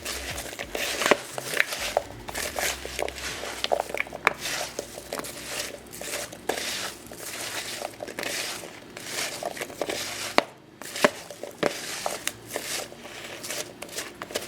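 Sliced apples are tossed with cinnamon in a bowl, producing soft, continuous rustling and crinkling with scattered small taps at close range.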